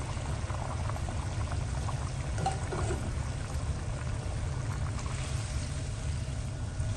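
Water pours steadily into a cooking pot of whole spices, dried coriander, fennel and star anise for vegetable pulao with peas, a continuous close rushing wash with no talk.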